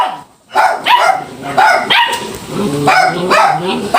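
A dog barks repeatedly and aggressively at close range, a run of sharp, agitated barks with brief gaps between them.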